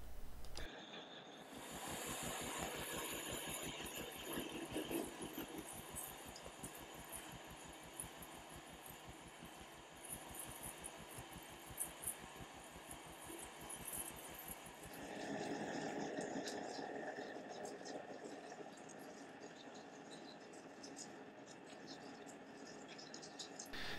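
Metal lathe parting off a gear blank in a home workshop, a steady machining drone with a rhythmic ticking chatter throughout, shifting in tone partway as the cut deepens, moderately loud and close with no talk.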